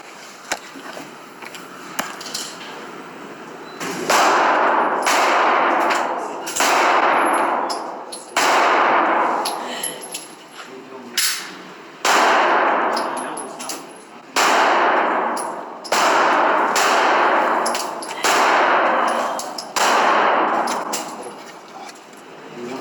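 Loud metallic gunshots ring out repeatedly at irregular intervals at a shooting range, each blast followed by a sharp echoing decay, with quieter gaps between volleys.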